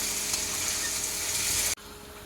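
Chicken pieces seasoned with salt sizzle steadily in a hot pan, a dense continuous hiss that cuts off abruptly near the end to a softer frying hush, with no talking.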